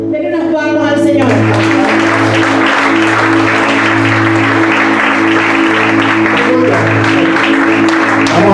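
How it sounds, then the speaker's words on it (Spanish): A church congregation claps together in a loud, sustained burst of applause after a brief spoken introduction, with a steady hum and background voices underneath. "Denle unas palmas al Señor."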